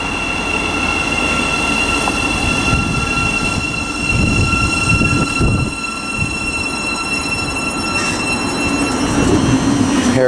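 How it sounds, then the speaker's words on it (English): A Thameslink Class 700 electric multiple unit pulls out of Luton Airport Parkway station on the Midland Main Line, a steady rolling rumble with high whining motor tones and brief wheel squeal, close and continuous throughout. "departing now, 700-144. That is the 1609 Thameslink service to Littlehampton from Bedford"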